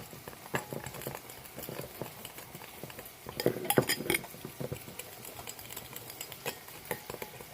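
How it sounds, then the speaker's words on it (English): A utensil stirs and scrapes food in a pan, with quiet irregular clinks and taps that build to a louder clattering flurry midway. No one speaks. "I'm going to stir it up really good"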